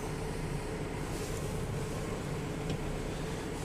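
A Kubota 5740 tractor runs with its PTO engaged, a steady broadband engine drone with no pauses, heard with wind noise after a major storm.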